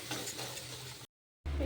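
Salt, turmeric, coriander and cumin powders being stirred and sautéed in oil in a pan, a soft continuous sizzle with scraping strokes, broken by a brief silent gap before the frying resumes.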